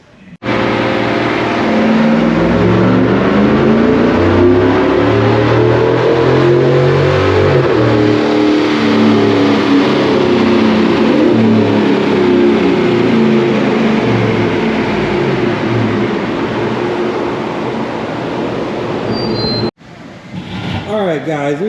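A cammed 2017 Cadillac Escalade with a 6.2-litre LT V8 and Corsa exhaust runs hard on a dyno, its loud engine climbing steadily in pitch for nearly twenty seconds before cutting off abruptly, then idling briefly afterward.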